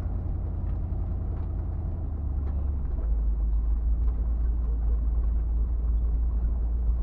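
A car drives through a canyon, its engine and road noise forming a steady, close, low rumble that deepens slightly partway through, with no talking.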